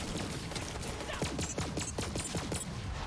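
Cryo blaster fire in Borderlands 3, a rapid stream of sharp, evenly spaced shots from a single gun, moderately quiet and steady over a continuous game backdrop.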